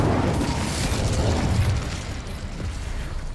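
The Incendio fire spell is cast in Hogwarts Legacy, a dense roaring whoosh of flame that holds loud for over a second and then settles into a lower rumble.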